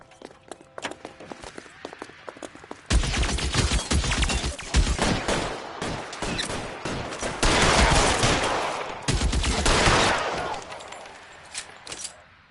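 Gunfire erupts in a shootout in LA Noire Remastered: a quiet opening gives way to sharp volleys of close gunshots from about three seconds, thickening into dense rapid bursts before tapering off.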